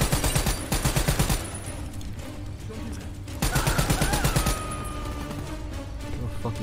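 Rapid automatic gunfire in the Call of Duty Black Ops 3 campaign, rattling in steady fast bursts close by with brief pauses, under a constant battle din.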